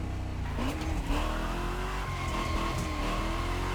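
A widebody Chevelle in The Crew Motorfest video game revs hard as it accelerates, its engine pitch climbing, dropping at a slow gear change and climbing again, loud and close with a hint of tire noise.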